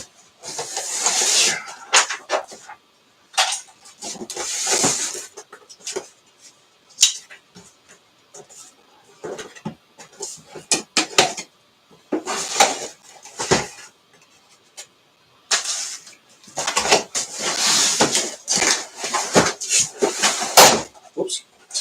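A drawer on a newly built workbench, made partly with cardboard, is handled in bursts of sliding, knocking and bumping that come and go with short gaps between them.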